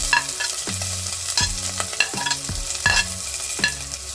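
Sliced onion sautéing in oil with coconut pieces for mutton curry, with repeated stirring strokes scraping the pan roughly every three-quarters of a second over a steady sizzle, close and moderately loud, no voices.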